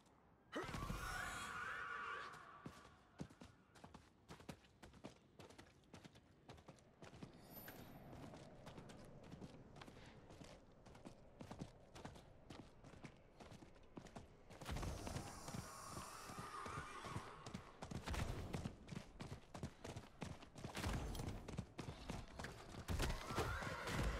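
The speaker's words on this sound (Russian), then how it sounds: "в тот момент, когда мы бегаем, нажимая пробел, он издает идеальные призрачные звуки." The ghostly Ghastly Reins horse mount from Diablo IV gallops with steady, fast clip-clop hoofbeats, close and loud, broken by eerie neighs and whinnies at the start and again midway.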